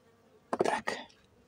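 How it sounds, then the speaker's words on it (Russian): Agitated honeybees buzzing at an opened hive in autumn, a close swell of dense insect drone rising sharply for about half a second and fading, over a quiet background. "Немножко, видите, пчелы недовольны."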